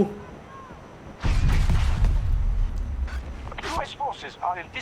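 Gunfire in the video game Battlefield 2042, a sudden loud burst of heavy booming shots and rumbling blasts that carries on for a couple of seconds, followed by chatter and effects while a player talks excitedly.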